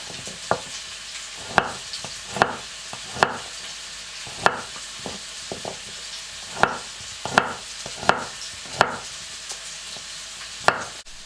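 Onion and garlic being cut into large pieces with a knife, a series of sharp, irregular chops against a quiet background with no talking.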